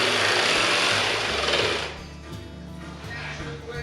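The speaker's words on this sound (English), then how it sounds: "That new jigsaw." A new jigsaw cuts a shaped piece of maple plywood, its loud buzzing, rattling stroke close by, then easing off as the cut finishes.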